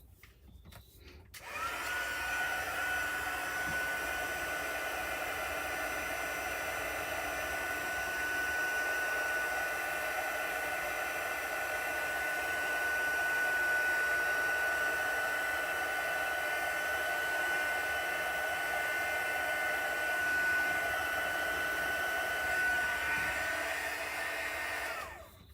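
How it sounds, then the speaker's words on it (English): A heat gun blows in a steady, moderately loud whoosh with a faint whine, starting abruptly and running continuously for about twenty-five seconds before cutting off. "Let's try the heat gun."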